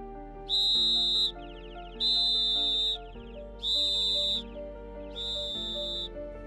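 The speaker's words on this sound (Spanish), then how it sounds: "Silencio roto por el pitido hueco de un silbato" Four hollow whistle blasts ring out at a cyclists' candlelight vigil, each about a second long, evenly spaced and loud against a quiet background.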